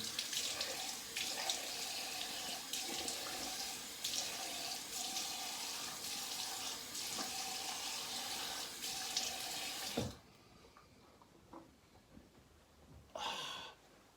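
Water runs steadily from a tap for about ten seconds while a stainless RazoRock Duke safety razor is rinsed, then cuts off abruptly, leaving quiet handling noises and a brief splash near the end.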